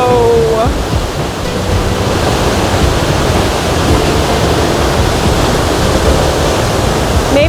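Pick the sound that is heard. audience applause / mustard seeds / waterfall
waterfall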